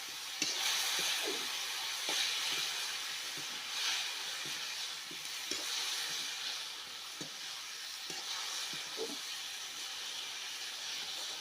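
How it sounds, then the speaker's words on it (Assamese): Tomato, potato and vegetables fry in a kadai, a steady hiss and sizzle with occasional soft clinks and scrapes of stirring, moderately close. "কেৰাহী দি ধুনীয়াকৈ লৰাই ল'ম"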